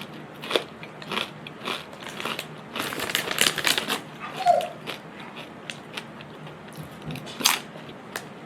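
Crinkle-cut Kettle dill pickle chips being bitten and chewed, with several sharp crunchy bites and crackles spread across the stretch, close and fairly quiet.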